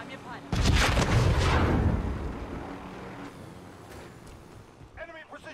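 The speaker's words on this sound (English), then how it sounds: "Enemy precision airstrike." Enemy precision airstrike in a video game: a sudden loud explosive boom rumbles and decays over about a second and a half, then fades into a lingering low rumble with faint voices.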